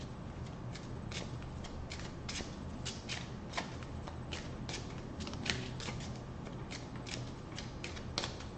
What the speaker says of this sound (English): So I'm going to go ahead and give it a shuffle.